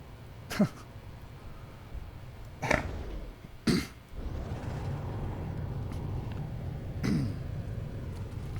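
Several short coughs and throat-clearing bursts from a person at a computer, spaced irregularly, close and fairly loud over a steady low background hum.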